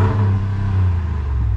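A Ram Rebel pickup's Hemi V8 rumbles close by in a steady, deep-throated rev, loud and continuous with no one talking over it.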